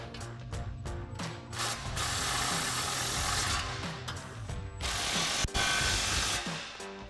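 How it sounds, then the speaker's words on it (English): An impact wrench fitted with a 12mm socket, swivel adapter and extension runs down the exhaust flange bolts on the Y-pipe of a Ford F-250 with a Magnaflow Street Series system. It gives a sustained, loud, close rattling hammer with brief pauses between bursts. "So now we can come in with our 12mm socket and swivel adapter and extension on our impact."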